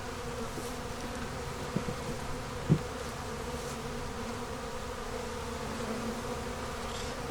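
Honey bees hum steadily around a beehive entrance, a soft continuous drone heard close up with a couple of faint knocks, and no talking.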